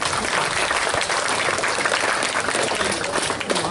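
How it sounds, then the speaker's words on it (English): An audience claps after a talk about Bleak House, a steady, dense wash of applause filling the room for a few seconds, with no voices over it. "Round of applause for Dr. Stafford, please."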